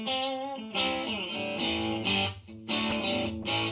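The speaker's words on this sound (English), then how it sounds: "That is the sound of the guitar. That's a single coil setting on my pickup." Electric guitar on its single-coil pickup setting, played through a Line 6 POD Go, rings out in clean, sustained chords and single notes, several distinct strums with ringing decay, alone and fairly quiet.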